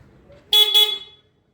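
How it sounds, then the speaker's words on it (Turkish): A 2004 Daihatsu Sirion's horn gives two quick, sharp chirps in close succession on keyless remote locking, loud and near, followed by silence. "Yaklaştığında korna ve sinyallerle uyarı veriyor."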